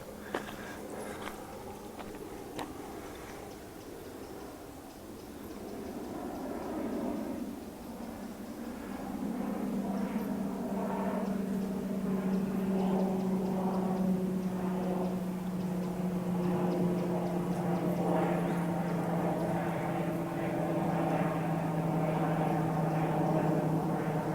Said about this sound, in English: Bloody hell, that's an aeroplane. I thought it was a truck or something coming up here for a second.